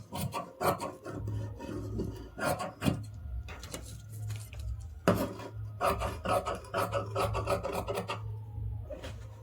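Scissors cut through blouse fabric while shaping a work blouse pattern, a series of close, rasping snips and rubbing strokes in uneven bursts over a steady low hum, with no talking.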